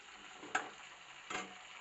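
Ginger garlic paste frying with onions in a pan for chicken curry, a soft continuous sizzle with two brief stirring scrapes.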